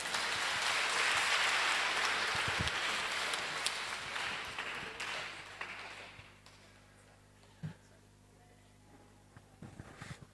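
A church congregation at a Kikuyu Woman's Guild service bursts into loud, dense applause that fades after a few seconds, leaving a quieter room with a few scattered claps and knocks.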